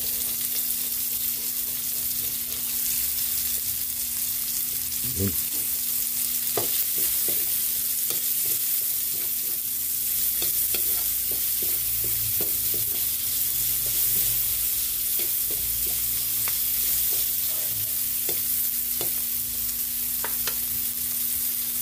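Garlic and onion sizzle steadily in a hot pan for Filipino picadillo, a constant frying crackle with occasional clinks and scrapes of a spatula stirring, close and uninterrupted, with a faint steady hum underneath.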